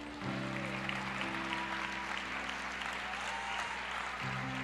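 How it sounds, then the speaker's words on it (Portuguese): A church congregation claps steadily under a low sustained organ or keyboard chord, the applause soft and somewhat distant for several seconds. "Aleluia, aplauda ao Senhor."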